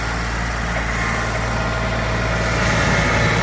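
A tractor engine works steadily on a gravel RV lot while cutting around utilities, a loud continuous low rumble with a constant drone and no talk.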